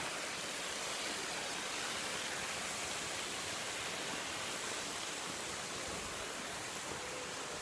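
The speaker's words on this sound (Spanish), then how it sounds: "toda esta agua nace de aquí, viene de arriba," Spring water welling up out of the ground in Santa María Ahuacatitlán flows in a steady, dense rushing hiss, close and unbroken throughout, with no talking.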